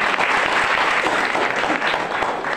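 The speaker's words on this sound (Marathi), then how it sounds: "त्यांच्यासाठी पण जोरदार टाळ्या झाल्या पाहिजे" Tenth-grade students in a school classroom applaud their teacher with loud, sustained clapping from the whole group, dense and steady throughout.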